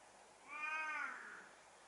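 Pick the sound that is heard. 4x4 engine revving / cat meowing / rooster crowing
cat meowing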